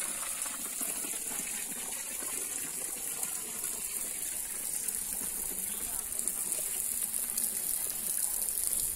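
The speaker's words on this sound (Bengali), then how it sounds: "খেতে পানি দেওয়া হচ্ছে" Irrigation water pours steadily into a farm field, a continuous broadband rushing gush that holds an even level throughout without pauses, close to the listener with no talking over it.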